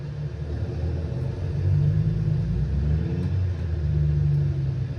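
Steady low truck engine drone amid surrounding road traffic in American Truck Simulator, a continuous close rumble that swells and eases slightly as the engine revs.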